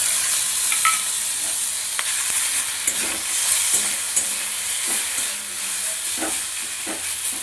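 Fish cutlet mixture sizzles steadily in a hot pan while being stirred, with scraping and clinking accents from the utensil scattered through the continuous frying hiss; close and moderately loud, no talking.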